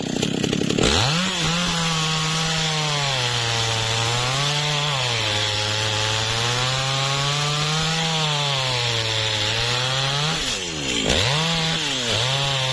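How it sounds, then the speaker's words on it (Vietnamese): A chainsaw cuts into a large melaleuca tree, its loud close engine holding a steady drone that rises and sags in pitch under load, briefly easing off before revving back up. "Rồi chú cưa đó, cưa mở miệng cái đó nha."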